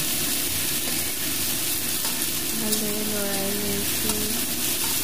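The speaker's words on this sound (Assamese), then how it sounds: "পিঁয়াজখিনি ধুনীয়াকৈ ভাজিব দিছোঁ।" Onions sizzle steadily in a spoonful of oil in a pan while a chicken and banana flower curry is cooked, a close, continuous crackling fry with a faint voice briefly audible underneath.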